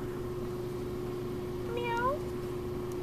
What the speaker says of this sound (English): Come here, it's a mew.